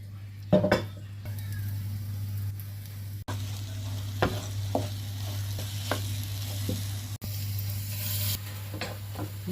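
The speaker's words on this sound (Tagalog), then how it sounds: "Gawa tayo ng scrambled eggs. Ngayon, wala ng water. Lagyan natin ng mantika." Scrambled eggs frying in cooking oil in a pan, a steady sizzle running throughout with occasional clinks and scrapes of a utensil against the pan.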